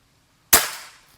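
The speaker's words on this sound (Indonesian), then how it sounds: "Tembakan ke-8. Oke, 8 juga kena." One loud, close shot from a Gorilla X2 PCP air rifle with a power plenum snaps out abruptly, its hissing tail fading over about half a second.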